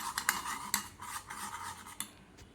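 Spoon clinking against a dish while salt and other ingredients are mixed for Rajasthani gawar phali (cluster bean) sabzi, light scraping taps with a few sharper clinks, close and alone with no talk.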